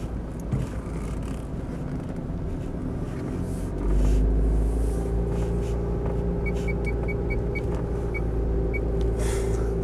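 Mitsubishi Pajero 2.8 LWB automatic driving along, a steady low engine and road rumble heard from inside the cabin that swells briefly as it slows under braking, with a faint repeated chime toward the end and no talking.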